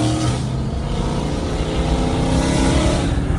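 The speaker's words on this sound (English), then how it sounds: "The idle's nasty." A Dodge Challenger Hellcat Redeye with an 800 hp engine idles loud and close, giving a rough, lumpy, burbling rumble with uneven pulses and no voices.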